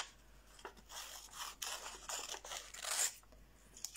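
Scissors snipping and being handled at a crafting table with cardstock and double-sided adhesive, giving a few dry, bright cuts and rustles close by, with no talk.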